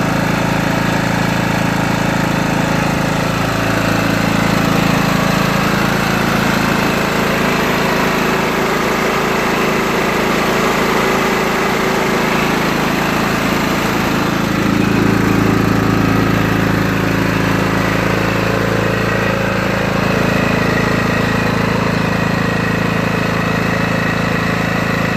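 A Scotts riding lawn tractor with a 15hp Kohler Command engine runs steadily at idle, a loud, close, continuous engine drone that holds a constant level with slight shifts in pitch.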